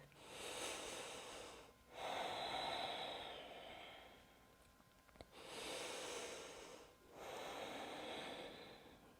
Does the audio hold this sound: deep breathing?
yes